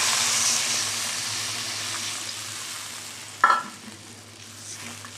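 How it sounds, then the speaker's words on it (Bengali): Frying spice paste of ginger and cumin hissing steadily in a pan, with water poured in producing a sharp burst of sizzle partway through that then settles into a quieter bubbling. "এবার আমি জল দিয়ে দিলাম।"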